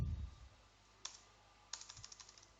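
Quiet computer keyboard typing, a few isolated key clicks followed by a short burst of rapid keystrokes, close and soft in a still room.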